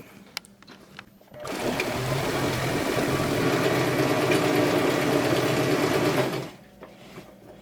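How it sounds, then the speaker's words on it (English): A sewing machine stitches a ruffle onto the bottom of a skirt in one steady, fast-running burst of several seconds, starting and stopping abruptly, with quieter handling noise before and after. "I'm going to finish stitching this up"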